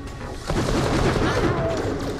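Gunfire in the video game Borderlands: The Pre-Sequel, a rapid burst of shots and booms packed into a loud, continuous clatter that jumps up in volume partway through.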